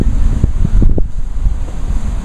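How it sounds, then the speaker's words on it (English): Strong wind buffeting the microphone with a heavy, rumbling roar that gusts unevenly throughout, loud and close. "It is so windy it actually knocked over the ladder"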